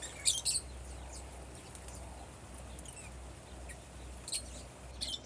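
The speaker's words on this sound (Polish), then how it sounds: "Mamy ptaszki." Small birds chirp in a botanical garden on Cape Verde, giving short high tweets in brief bursts near the start, around four seconds and near the end over a steady low outdoor hum.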